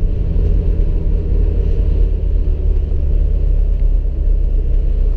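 Cabin rumble of a 1991 BMW 525i E34 with chip tuning and an M40 gearbox, a loud continuous low drone of engine and road noise while driving, with no talk.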